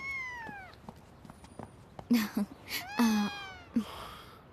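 A cat meowing several times, a drawn-out falling cry followed by a run of shorter, sharper mews close by, with quiet handling noise between calls.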